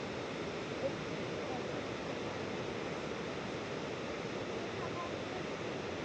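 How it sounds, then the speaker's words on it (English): Steady broadband rush of the waterfall at Burgess Falls, a dense, continuous roar heard from a nearby overlook with no break across the clip and no talk over it. "I thought this was the main waterfall, but Jason said it wasn't."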